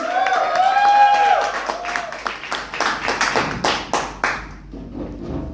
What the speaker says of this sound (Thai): ขอเสียงปรบมือให้กับอ้วนท่าพระครับผม